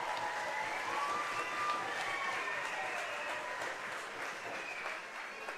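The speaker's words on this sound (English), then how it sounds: "And the Labatt Park crowd cheers for that one" Baseball crowd at Labatt Park in London cheering and clapping after an RBI double in an IBL game, a faint, distant wash of applause that slowly fades.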